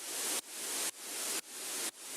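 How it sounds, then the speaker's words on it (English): A white noise downlifter sound effect from a sample pack, used in a remake of Sleep Token's Granite: a bright hiss that swells and then cuts off sharply, repeating four times in quick, even pulses with no voices. "Another layer of noise is this white noise downlifter from Big White Noise Pack,"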